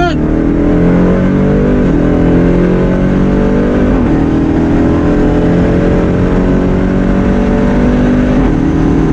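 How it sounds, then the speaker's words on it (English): A Jeep Trackhawk launches hard down a prepped drag strip, its engine roaring loudly as it climbs through the gears in rising sweeps with brief dips at each shift, sustained and close for several seconds. "Launched pretty hard there."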